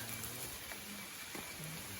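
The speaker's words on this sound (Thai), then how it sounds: "ฝนเริ่มตกเลยนะ" Steady light rain starting to fall patters on a surface in a forest, a soft continuous hiss with faint scattered drops and no voices.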